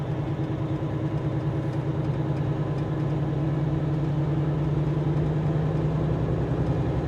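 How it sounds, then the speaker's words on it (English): Souped-up lawn tractors at a tractor pull give off a steady, droning engine rumble that holds evenly throughout, heard from a moderate distance with no voices. "it's the little, like, lawn tractor pulls"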